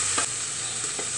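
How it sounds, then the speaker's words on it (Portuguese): Onion stirred and frying in a pressure cooker, with a bright steady sizzle and two short scraping stirs of a utensil against the pot. "Aqui a cebola, ó. Pra dar uma mexidinha só, pra pegar o gostinho assim."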